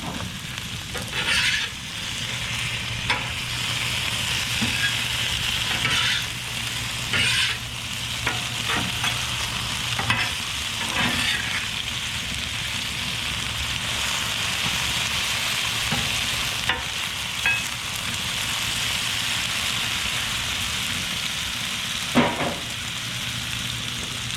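Onion sizzles steadily in a hot pan, a dense continuous frying hiss with occasional utensil clicks and stirring scrapes close by, no talking.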